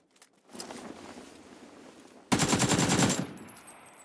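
Automatic gunfire in the video game PUBG, a loud rapid burst lasting about a second after a stretch of quieter footstep-like rustling, close and unaccompanied by speech.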